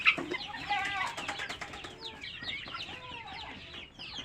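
Ten local desi chickens cluck and squawk in overlapping bursts close by, a busy, uneven chatter of fowl with no talking.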